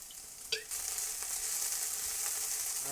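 Onions sizzle steadily in olive oil in a pan, a bright continuous frying hiss that swells after a quick clink and a splash of added oil near the start, with no voices.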